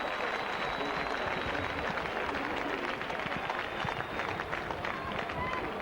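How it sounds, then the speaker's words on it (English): Rugby league stadium crowd at a 1996 Halifax versus St Helens match, a steady dense roar of cheering and clapping filling the whole stretch, distant and sustained, with a commentator talking over it. "Oh, but the crowd like that, don't they?"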